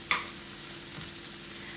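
Egg muffin ingredients fry in a pan with a faint steady sizzle, opened by a sharp clink of a utensil against the pan near the start.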